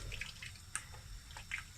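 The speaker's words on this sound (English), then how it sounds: "Putting some water in." Water is poured into a pot of lamb and beetroot curry, a soft, quiet splashing and trickling with a few small drips, heard on its own for under two seconds.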